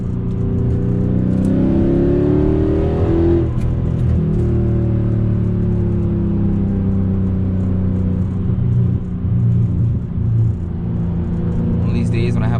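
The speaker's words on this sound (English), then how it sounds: "it's a lot more fun when you hear that downshift like this, like that" A Mercedes C63 engine rumbles loudly and steadily close by, with a rising rev sweep early on and gear-change-like dips, a continuous deep drone throughout.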